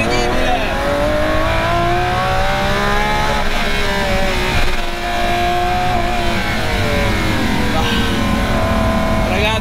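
Lamborghini Aventador Ultimae V12 engine revving loudly from inside the cabin, a continuous rising and falling roar with rapid pitch sweeps as it accelerates, under someone speaking.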